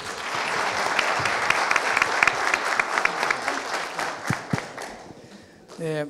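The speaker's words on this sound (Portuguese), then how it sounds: "Uma salva de palmas, gente." An audience at an engineering talk on unmanned equipment and artificial intelligence breaks into sustained applause, many hands clapping densely and loudly before thinning out, with a voice starting to speak right at the end.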